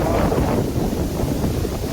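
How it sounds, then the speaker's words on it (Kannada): Wind blowing steadily at a forest lake, a dense low rumble buffeting the microphone throughout, loud and constant with no voices. "ಗಾಳಿ ಬೀಸ್ತಾ ಇರೋದು"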